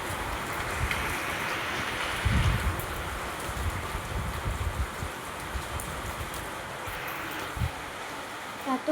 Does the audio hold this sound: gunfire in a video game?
no